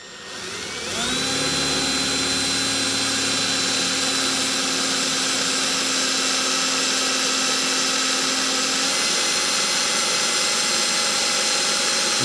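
An electric drill with a dull bit bores through a thick piece of aircraft aluminum for riveting while building an RV kit plane, a loud steady whine spinning up and holding for about eight seconds before easing off.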